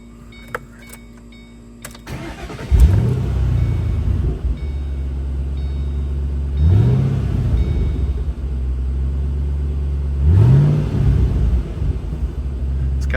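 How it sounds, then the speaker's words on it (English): A 2007 Ford Mustang GT with a Corsa exhaust cranks and fires up, then settles into a deep, loud idle rumble close by, with the engine blipped upward twice more in rising revs. "let's give this thing a quick start, and I'll let you hear how this exhaust sounds"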